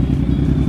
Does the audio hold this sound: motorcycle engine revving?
yes